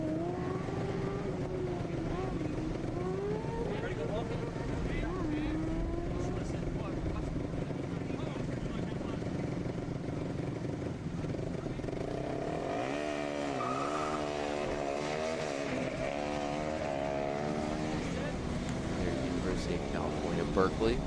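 A Formula SAE race car pulling away on a competition track, its engine note climbing and falling through gears at a distance beneath continuous commentator talk.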